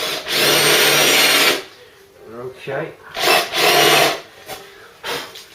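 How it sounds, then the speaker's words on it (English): A power drill with a smaller bit drills out a mount plate on a Ford Cortina Mk3 under restoration, loud whining bursts starting and stopping, with a brief spoken word between. "I just go a drill bit down and finish off"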